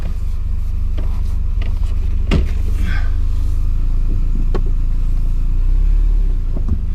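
A race car engine drones loudly and steadily while being driven, a continuous close rumble with small shifts in pitch and no talking.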